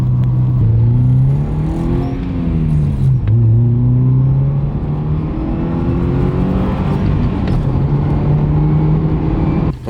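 A Subaru Impreza engine roars loud and close under hard acceleration, pitch climbing through gear changes with brief dips between pulls, droning continuously with a deep rumble.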